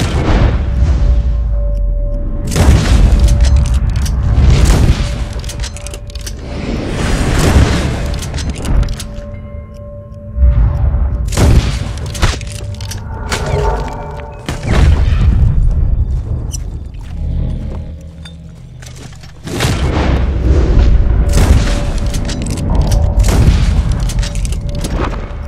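Gunfire in Red Dead Online during a fight with players trying to rob a wagon, with loud booming shots and volleys arriving in several heavy bursts separated by brief lulls.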